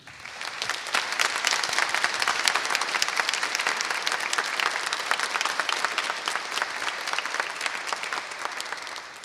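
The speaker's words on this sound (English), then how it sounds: "So if we could give them a round of applause" Steady applause from a concert audience for a university chorus fills the clip, dense clapping at even loudness that fades slightly toward the end.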